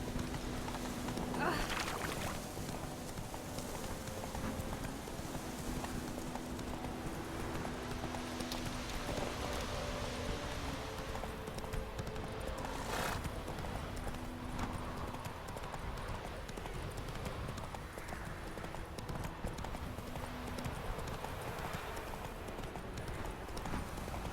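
Rhythmic hoof clops of a horse moving at pace over a continuous outdoor din, with occasional voices in the background, in the video game The Witcher 3: Wild Hunt.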